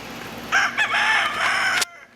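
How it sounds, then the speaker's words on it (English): A rooster crows once, loud and close, with a strained rising and falling call lasting over a second before cutting off abruptly, among a flock of chickens outdoors by a shed. "Got a whole mess of chickens."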